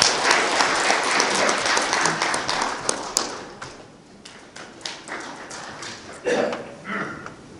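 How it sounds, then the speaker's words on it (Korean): Audience at a Korean memorial ceremony and foundation launch applauds to welcome a speaker, loud dense clapping at first that thins into scattered claps, with a voice starting to speak near the end. "박수로 맞이하도록 하겠습니다."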